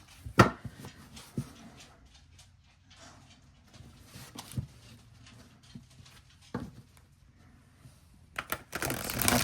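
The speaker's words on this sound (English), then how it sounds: "let's see how well this shuffles" Riffling and flicking of a large linen-finish oracle card deck, soft papery shuffles with a few sharper snaps spread across the span and a louder rustling burst at the end, close and fairly quiet.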